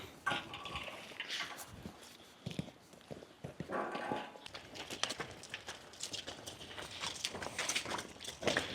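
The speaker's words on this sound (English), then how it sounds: "So 77 cows go now out to the paddock." Hooves clop and shuffle on hard ground as a herd of 77 dairy cows walks out to a paddock, irregular steps near and far with faint clanking.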